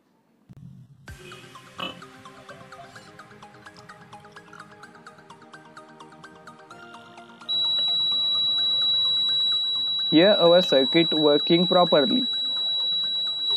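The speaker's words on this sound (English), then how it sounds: "Indicator LED glows and buzzer start beeping." A homemade water overflow alarm's buzzer, set off when water in a glass reaches the sensor wires, switches on partway through as a loud, close, steady high-pitched tone that continues to the end, with someone talking briefly over it.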